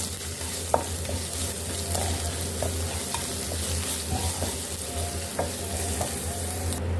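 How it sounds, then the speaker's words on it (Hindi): Crushed garlic and ginger fry in a pan for mixed vegetable kebabs, giving a dense, continuous sizzle with a few scattered stirring clicks and scrapes, close and fairly loud, with no talking. "अब इसमें हम लहसुन अदरक कुटा हुआ डाल लेंगे और इसको भी हमने फ्राई कर लेना है हल्का सा।"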